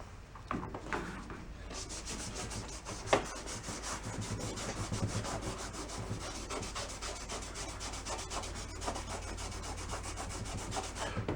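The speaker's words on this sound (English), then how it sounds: "Let's work a little bit of lacquer thinner on the top side." Cloth rubbing lacquer thinner over the painted top of a vintage 1950s metal cola thermometer, a soft, continuous scrubbing hiss with a few sharper scuffs, fairly quiet and close.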